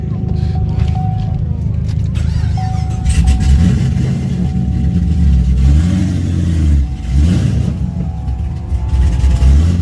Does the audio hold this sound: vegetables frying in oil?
no